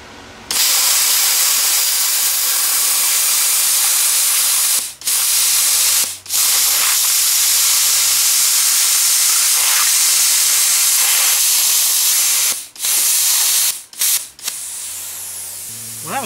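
An Everlast Power Plasma50 plasma cutter blasts a loud, close, continuous hiss of air fed by a compressor, cutting out briefly several times with short gaps and low hums between bursts.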